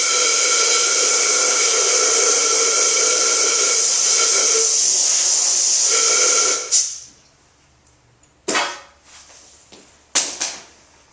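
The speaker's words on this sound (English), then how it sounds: "I'm just going to blow this out really quick with some compressed air too" Compressed air blows dust out of a part before Cerakote heat-cure coating, a loud steady hiss lasting several seconds, then stopping and followed by two short, sharp bursts.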